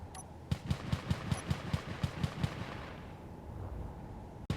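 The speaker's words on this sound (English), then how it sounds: "And we're being shot at." Rapid burst of enemy gunfire in the Space Engineers space game, about a dozen evenly spaced shots in quick rhythm over a low rumble, then fading into a steady hum with one sharp crack at the end.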